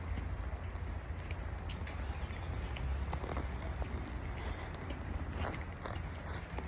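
Rain falling during a trip to work, heard as a steady, fairly loud broadband hiss with a low rumble underneath and scattered sharp ticks, with no voices.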